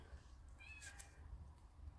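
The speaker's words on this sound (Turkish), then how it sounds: "Benim kız gene miyu demeye başladı." A pet cat meows once at home, a short rising-falling cry near the middle, faint and fairly close against quiet room noise.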